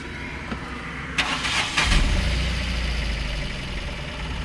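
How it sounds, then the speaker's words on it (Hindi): A Tata Nano car engine cranks with a short starter whir and catches, then settles into a steady low idle rumble that continues close and alone to the end. "तो कुछ इस तरीके से हुई है गाड़ी अपनी स्टार्ट।"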